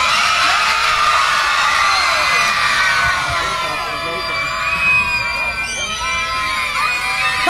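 Crowds of children shout and cheer loudly at a Children's Day festival in a plaza, a sustained chorus of high, excited yells and whoops that swells and dips.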